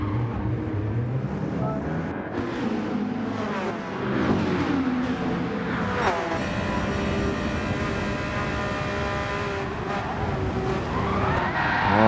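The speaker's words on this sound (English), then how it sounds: "has to take the off-road onto the grass and just lock the wheels up, spun the car around" In a racing video game on the Deep Forest track, a Porsche runs off onto the grass, locks its wheels and spins around, its tyres screeching in a long sliding squeal over a loud, wavering engine drone.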